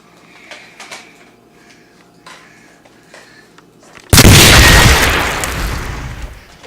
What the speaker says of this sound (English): That was a grenade, Private.